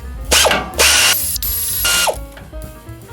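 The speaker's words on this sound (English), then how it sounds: "let's undo some steering box bolts" Loud ratchet wrench undoing steering box bolts on an old Chevy truck, cranked in several sharp rattling bursts with short pauses between them, close up.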